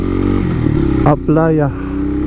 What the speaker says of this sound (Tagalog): Pero maraming motorsiklo na nakasalubong tayo ngayon.